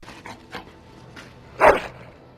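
A pet dog in the Dragon Age video game gives a single sharp bark close up, preceded by faint panting and soft game sounds.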